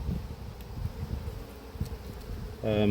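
Caucasian honey bees at an apiary hum in a steady, dense drone throughout, with a louder, closer buzz swelling in near the end.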